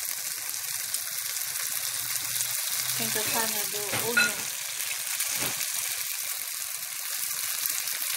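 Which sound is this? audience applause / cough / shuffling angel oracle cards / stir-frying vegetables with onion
stir-frying vegetables with onion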